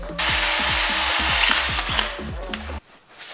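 A battery power drill with a nearly dead battery, fitted with a cheap drill bit, bores into a workpiece in a home workshop. It gives a close, loud whirring grind with repeated rhythmic pulsing and strains for about two and a half seconds before it stops abruptly.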